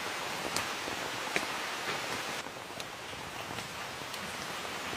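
Steady pouring rain hisses without a break, a dense even wash that stays loud for the whole stretch with a few brighter drop spatters and no one speaking.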